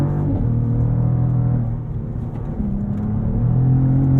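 A 2023 Cadillac CT4-V Blackwing's engine pulls hard on twisty roads, a loud, close, steady drone from inside the car that dips briefly in the middle before building again.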